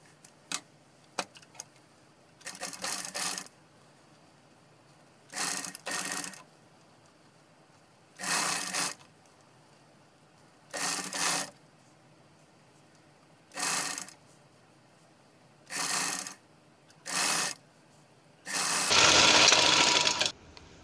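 A sewing machine stitches fabric for a sleeve design in short, rapid whirring bursts, about eight separate runs broken by quiet pauses and small clicks, with a longer, louder run near the end.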